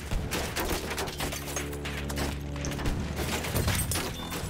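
Distant gunfire rolls through a Battlefield 1 battle as a dense, fairly faint crackle of scattered shots over a low rumbling engine-like drone, with no pause throughout.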